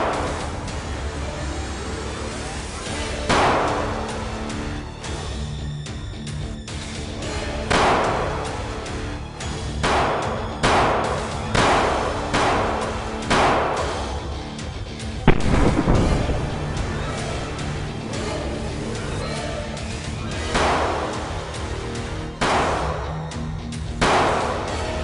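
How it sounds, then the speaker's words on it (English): Gunshots at an outdoor shooting range, a series of loud, sharp bangs repeating every few seconds with echoing tails over steady background noise. "it's time to shoot the gun"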